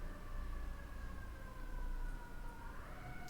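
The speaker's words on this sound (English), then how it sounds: "Ayo, sirens." Emergency vehicle sirens wail outside, heard faintly and steadily as a long sliding tone over a constant low rumble of background noise.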